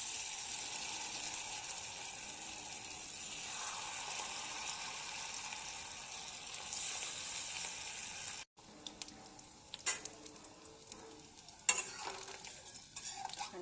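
Fritters of bok flowers dipped in a rice paste batter with salt, turmeric and black cumin sizzle steadily in hot oil, then after a brief break come clinks and scrapes of stirring and turning amid lighter frying.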